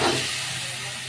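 Meat dropped into a hot pan sizzles in a loud, dense hiss that starts strong and holds steady over about a second, with no talking.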